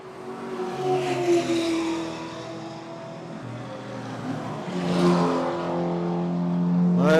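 BMW race cars on a circuit at a club race meeting pass with a tonal engine drone, rising and falling as they go by at moderate distance, with the pitch climbing sharply as one accelerates near the end.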